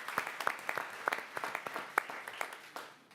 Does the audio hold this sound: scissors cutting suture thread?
no